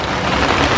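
Heavy rain pouring down, a loud dense continuous roar of water filling the brief moment with no gaps.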